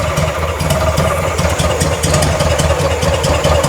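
A Ford Model T kit engine with a replacement carburetor idles rough and rich, a steady loud low chugging that stays close and continuous with no talk over it.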